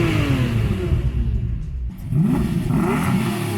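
A Lamborghini Murcielago with a 6.2-liter V12 and six-speed manual revs loudly up close, the engine note rising, dipping briefly, then climbing again with a strong mechanical roar.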